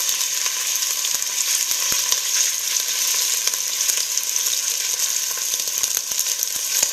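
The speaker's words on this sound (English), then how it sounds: "all you have to do is just sear everything on all sides and turn it down a little bit" Chunks of pork sear in a hot pan for a pork and tomatillo stew, a steady, bright sizzle with occasional crackles and light stirring, close and with no talk.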